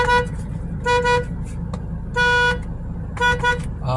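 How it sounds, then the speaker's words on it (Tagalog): A 2017 Toyota Hiace van's horn, just repaired, honks in several short, loud toots with brief gaps between them. The van idles quietly underneath and no one speaks. "So naayos natin ang busina."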